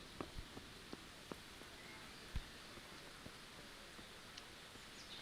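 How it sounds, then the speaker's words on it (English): Light rain falls in the video game Kingdom Come: Deliverance, a faint, soft patter with scattered small drops ticking over a quiet hiss. "it's slightly raining"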